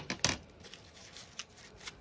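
Sharp scissors cut into a craft tree trunk with a few crisp, quiet snips and rustles close by, then short scraping sounds.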